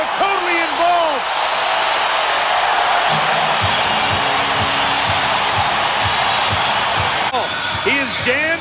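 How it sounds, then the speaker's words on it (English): Loud basketball arena crowd roaring and cheering during a 1994 NBA playoff game, Jazz versus Spurs, a continuous wash of noise with a ball bouncing on hardwood and a commentator's voice over it. "The crowd totally involved."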